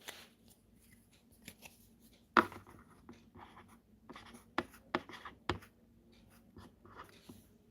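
A pen writes by hand on paper, a soft continuous scratching broken by a few louder taps and clicks, close and without speech.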